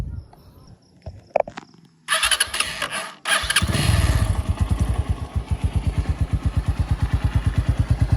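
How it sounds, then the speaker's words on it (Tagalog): A Keeway Cafe Racer 152 motorcycle starts after a few clicks and a brief crank, then idles through its exhaust pipe with a loud, steady rhythmic thumping that settles into an even pulse. "Ganito yung output ng pipe niya."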